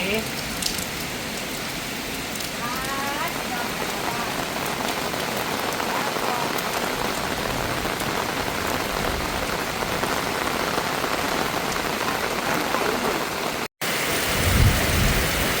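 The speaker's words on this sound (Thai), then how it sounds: "ฝนตกนะตอนนี้" Heavy rain pours steadily onto surfaces with rolling thunder, a dense, loud roar throughout. There is a brief dropout near the end, then a low rumble rises.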